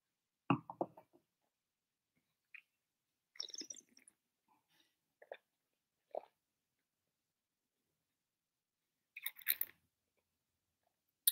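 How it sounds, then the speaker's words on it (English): Shiraz wine is swished around the mouth and swallowed: scattered soft, close, wet slurps, gulps and mouth clicks separated by long silences, faint overall. "I'm still rolling it around my mouth and swallowing a little bit and keeping the rest in my mouth, moving it around."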